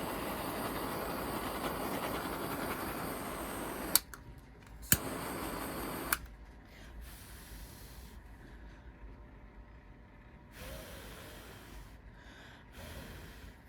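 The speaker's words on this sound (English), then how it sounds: "I'm blowing on it to cool the epoxy down so it doesn't flow too much." A person blows breath onto epoxy to cool it, a series of soft, breathy gusts at close range. A few sharp clicks and short bursts of noise come in between the quieter stretches, with no talk.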